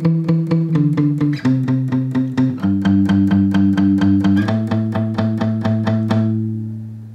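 Palm-muted electric guitar riff, evenly picked chugging notes stepping through a melody in steady rhythm, ending on a ringing note that fades.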